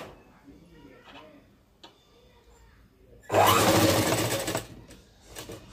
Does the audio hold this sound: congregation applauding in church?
no